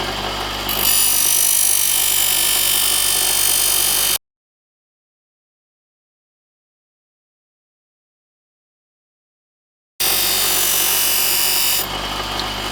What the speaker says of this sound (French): je vais venir présenter ma demi-lune, et grâce à la vitesse de rotation, la pâte abrasive chauffe bien et donc affûte correctement ma lame